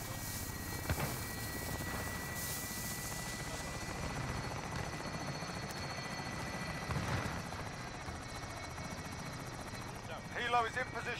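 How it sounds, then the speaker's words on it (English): A helicopter drones in over a Call of Duty Warzone battlefield, a low continuous rotor roar at moderate distance with faint shifts in level, while voices speak intermittently over it. "Helo is inbound."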